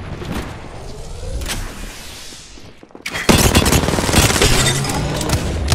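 Grenade blasts and rapid gunfire ring out in a video game battle, with bursts of shots, a brief lull near the middle, then a louder, denser stretch of fire.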